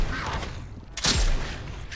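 A single loud gunshot rings out midway, fired at a creature in the video game Atomfall, with a booming low tail trailing off after the sharp crack.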